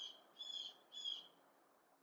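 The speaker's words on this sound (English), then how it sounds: "Maybe that's a blue jay." Harsh bird squawks, likely a blue jay, from inside a tree just outside a window, two drawn-out calls in succession, faint and somewhat distant.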